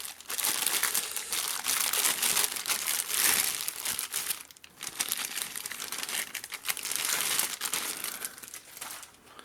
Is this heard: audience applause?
no